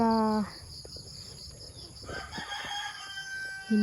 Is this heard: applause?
no